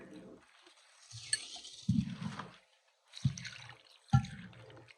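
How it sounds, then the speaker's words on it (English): Milk poured over bammies in a dish to soak them, with a few short splashing pours and soft liquid glugs separated by quiet gaps. "To soak my bammies, I'm gonna be using some milk."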